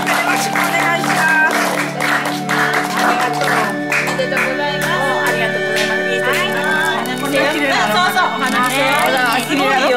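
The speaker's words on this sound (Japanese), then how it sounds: "盛大な拍手でお誕生日の方を終わりたいと思います" Steady applause and clapping from a small gathered group celebrating Kiyo-san's 86th birthday, sustained and fairly close throughout, with cheerful voices chattering over the clapping.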